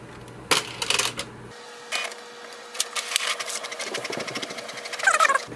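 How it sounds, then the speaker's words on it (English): A Canon Pixma TR7620 printer printing a page gives a run of mechanical clicks and clattering feed noises, then a steady rhythmic whirring, with louder rattling near the end, heard up close with no talk. "it will send a command for the printer to print the page."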